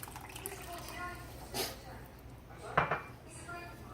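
Water is added to paella that is sticking in the pan, with a soft pour and a couple of sharp clinks of utensil against pan under a kitchen background.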